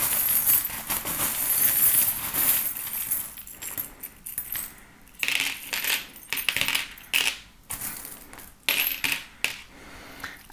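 Small metal divination charms are shaken and cast onto a table, giving jingling, clinking bursts with short rattles and pauses, close and fairly loud.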